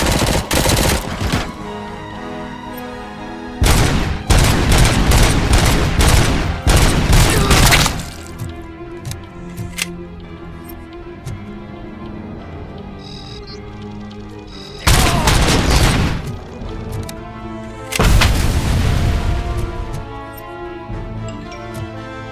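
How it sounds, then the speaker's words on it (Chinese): Heavy machine gun fire in the video game RoboCop: Violent City comes in loud, rapid bursts of booming shots, separated by quieter stretches with scattered single blasts and impacts. "那边还有一个重机枪呢"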